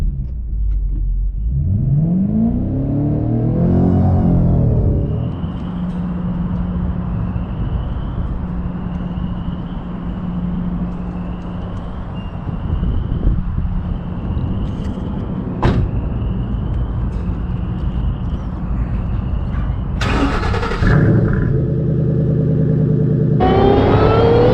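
2012 Shelby GT500 at a dragstrip, engine revving up with a rising pitch sweep before settling into a steady rumble, then a sharp door-like clack and loud bursts of noise near the end.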